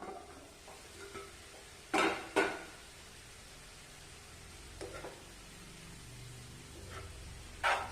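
Spinach and jackfruit seeds mixed with ground coconut paste in a pan, quiet scraping stirs with a few louder clanks of the spoon against the pan and a faint sizzle between them.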